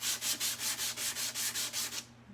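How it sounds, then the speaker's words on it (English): Sandpaper rubbed by hand across the wood of an old 1980s hall tree during a farmhouse-style makeover, about ten quick, even back-and-forth strokes, close and clear, then stopping. "hopefully you can see that just using this sandpaper here,"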